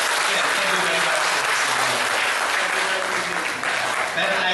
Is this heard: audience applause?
yes